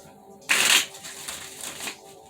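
A quick burst of tarot cards being shuffled, crisp and close, followed by softer riffling and light handling of the deck.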